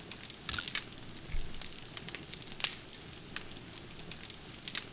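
Faint, sparse crackling and popping from a campfire in the video game 7 Days To Die, with a few sharper snaps over a soft hiss.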